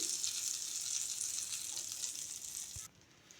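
Butter and a spoonful of oil sizzling in a pan for paneer tikka, a bright continuous hiss that drops away abruptly near the end.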